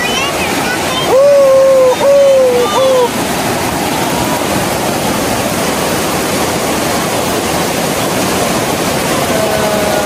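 A clear river at a campsite in Tanjung Malim flows with a loud, constant rushing wash from start to finish, while a brief voice speaks near the beginning.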